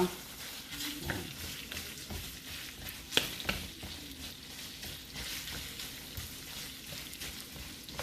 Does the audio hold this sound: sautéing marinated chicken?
yes